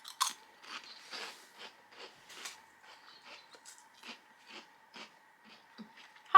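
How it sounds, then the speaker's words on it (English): Cauliflower crisps crunched and chewed close up, a run of crisp bites and chews spaced through the clip with soft breathing between, ending on a louder crunch. "I'm just going to go back to my cauliflower crisps."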